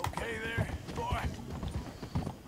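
In Red Dead Redemption 2, horse hooves clip-clop in a steady trot, with a short whinny-like tone and some voice-like sounds mixed in. The footsteps are fairly close and moderately loud.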